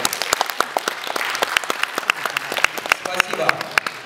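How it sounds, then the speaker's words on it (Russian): Applause from an audience at a bodybuilding tournament, the Open Cup Mister NAC Estonia 2011, with sparse, sharp claps over a few seconds and some crowd chatter. "Аплодисменты."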